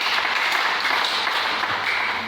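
Congregation at a French-language church service bursting into applause to acclaim the Lord, a dense, steady wash of clapping filling the room for a couple of seconds with no voices over it.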